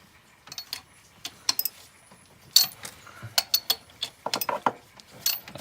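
Ratchet wrench re-checking tightened spark plugs on a Hummer engine, bursts of sharp close clicking and pawl ratcheting in short, irregular runs with brief pauses and light metallic taps between them.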